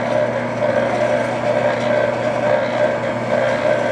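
A Hobart V1400 floor mixer runs in third gear with its outer skins removed, giving a steady, even mechanical hum and whir at constant loudness throughout.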